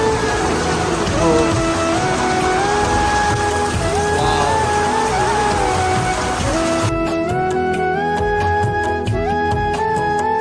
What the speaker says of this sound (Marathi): पाऊस बघा किती जोरात आला आहे.